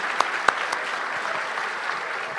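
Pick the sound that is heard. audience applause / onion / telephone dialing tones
audience applause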